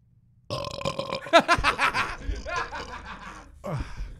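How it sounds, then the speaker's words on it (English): A loud burp bursts out, followed by a run of chuckling and snickering laughter with a few more throaty bursts, close to the mic and fairly loud. "I just had to go off the mic to burp real quick"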